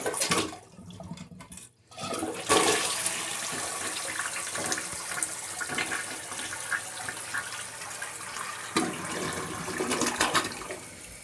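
A toilet flushes after a new flapper is fitted, beginning with a click of the handle and then a loud, close rush of swirling water that settles into a steady refilling hiss.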